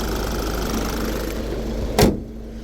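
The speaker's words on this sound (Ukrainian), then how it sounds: "Мотор працює рівно, стабільно справний" A Seat Altea XL engine idles with a steady low rumble, a short clunk partway through, no voices.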